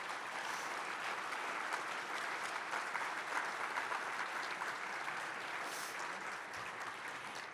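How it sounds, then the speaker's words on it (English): An audience at a Nebraska Republican gubernatorial forum on agriculture and rural issues applauds the six candidates, with steady, dense clapping that holds even and loud throughout, with no talk over it. "give a round of applause to our 6 candidates for taking time today"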